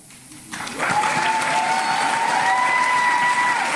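An audience claps, and the applause swells in after a brief quieter start and then holds as a full, dense patter of many hands to the end.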